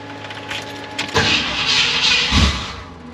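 An old Ford Mustang's engine cranks as someone tries to start it, a burst of starter grinding up close followed by a heavier low thump, with no speech.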